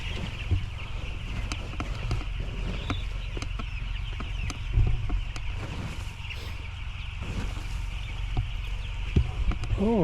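Eleven-day-old chickens in a poultry house make a continuous mix of soft clucks and chirps over a steady fan-like hum, with scattered sharper calls and occasional footstep-like knocks close by.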